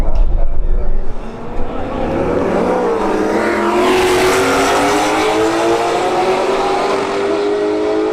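A Roush Stage 3 Mustang and a Camaro SS launch side by side in a street drag race at a motorsports park, engines roaring loud as rising revs climb through gear changes, then holding a sustained high-pitched howl as they pull away.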